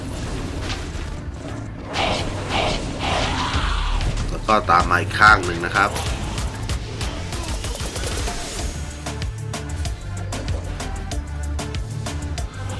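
Repeated heavy impacts and bursts of gunfire-like booms as gates are attacked in the mobile game Cabal Mobile, with someone talking over the action.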